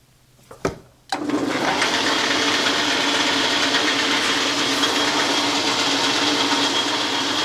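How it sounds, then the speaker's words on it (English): Metal lathe turning down a weld on a ball turner for a quick change tool post: after a couple of brief clicks, a steady, loud whirring machine drone with a broad hiss runs continuously, with no talk. "Okay, now I got to turn that weld down."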